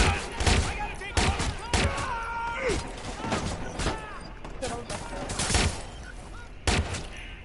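Heavy gunfire from a big gun in the action game Watch Dogs, loud, irregular shots spaced about a second apart with some quicker bursts, mixed with in-game voices and talk.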